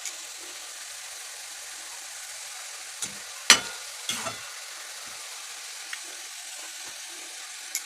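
Potato chips frying in bubbling, foaming oil with lemon added: a steady broad hiss of frying runs throughout, with a few sharp knocks of stirring near the middle.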